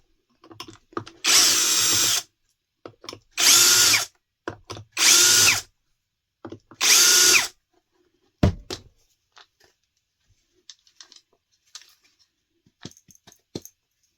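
A power drill backs the four screws out of a Yuka Mini machine during maintenance: four loud, steady whirring bursts of about a second each, close by, then quiet clicks and small metallic handling sounds.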